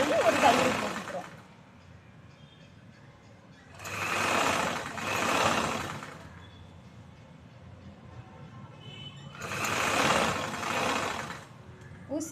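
A sewing machine top-stitches along the folded edge of a choli, quarter of an inch in, running in three separate bursts with quiet gaps between them, loud and close.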